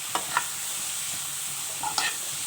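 Chicken and potato kachori filling with spices frying in a pan: a steady soft sizzle with a few sharp spoon scrapes and clinks near the start and end.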